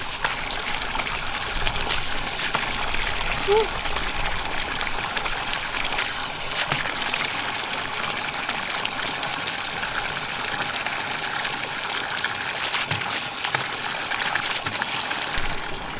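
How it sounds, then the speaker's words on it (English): Water gushes and splashes steadily as someone rinses off at a camp trough on a hot day, a continuous close wash of sound with one brief exclamation. "Now, time to rinse off in the water, because it's pretty hot here actually."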